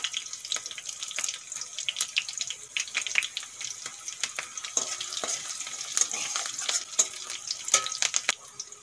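Curry leaves crackle and sizzle in hot oil in a pan, a dense, close, continuous frying hiss with sharp pops scattered throughout.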